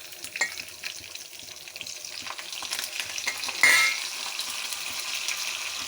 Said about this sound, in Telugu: ఎల్లుల్లిపాయలు బాగా వేగాలి